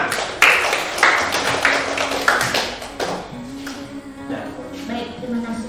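Applause from an audience at a school presentation on spreading a positive culture, a dense patter of claps in several bursts that thins toward the end.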